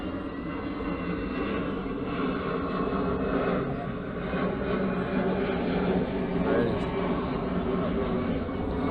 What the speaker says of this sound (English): As you can probably hear, we're situated right beside Birmingham Airport.